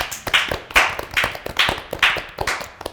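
A few people clap in quick bursts of bright, close claps, with no voices.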